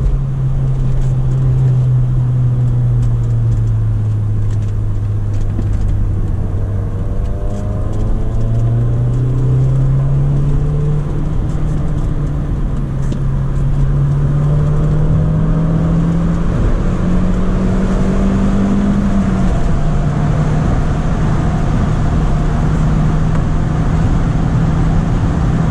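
A 1995 Audi with a manual gearbox drives in third gear, its engine a loud steady drone from inside the cabin that slowly rises and dips in pitch as it holds speed, with no talk.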